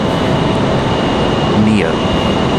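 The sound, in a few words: Airbus A321neo jet arriving from Dallas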